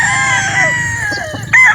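A Boston Black gamecock rooster crows nearby on a game farm, a short loud call with some clucking around it.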